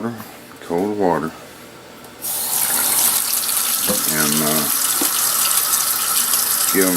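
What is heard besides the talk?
cold water running from a tap, filling a container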